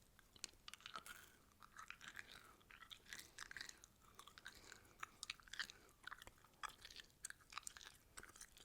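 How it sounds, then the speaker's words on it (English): Close, intimate chewing of bubble mint bubble gum, with a steady run of wet, crisp mouth clicks and smacks repeating every fraction of a second, heard alone without speech. "We are chewing some bubble mint, or extra white bubble gum flavour."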